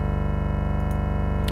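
A buzzy 8-bit square-wave synthesizer tone holds one steady pitch, loud and alone, with rich evenly spaced harmonics, and ends in a brief click.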